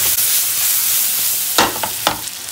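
Cabbage, onion, carrot and three colours of capsicum sautéing in a pan, a steady soft sizzle with a few sharp scraping stirs of a spoon near the end.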